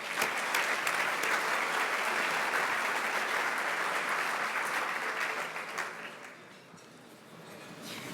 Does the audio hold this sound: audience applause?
yes